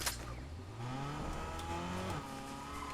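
Car engine from the Fortnite video game droning steadily for about three seconds, its revving pitch rising and falling with a faint tire-squeal edge, moderately loud with no talking.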